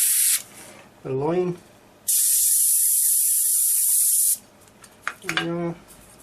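A VEDA 180 airbrush sprays Vallejo paint at 30 pressure in one loud, steady hiss lasting about two seconds, with a short burst just before it and someone talking briefly before and after.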